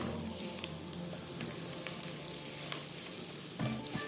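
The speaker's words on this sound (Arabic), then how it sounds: "البصل راح انزل الشعرية وابدي احمر بيهم هناك" Vermicelli frying in fat with onion, a close, continuous sizzle with light stirring clicks and scrapes running through it.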